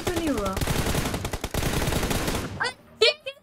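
Rapid automatic gunfire in the mobile battle royale game BGMI, a loud dense burst of shots for about two and a half seconds, followed by a few sharper single hits, with brief game sounds layered in.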